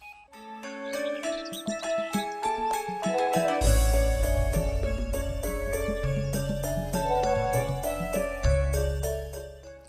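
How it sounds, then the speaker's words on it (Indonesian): A mobile phone ringing with a bright, tinkling melodic ringtone that swells from a light chiming start into a fuller, looping tune with a deep bass pulse, loud and close, playing alone without talk. "Eta HP dari tadi bunyi terus."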